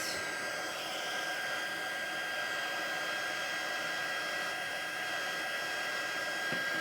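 A heat embossing tool warms up for paper crafting, producing a steady, even blowing hiss that holds for several seconds with no talking.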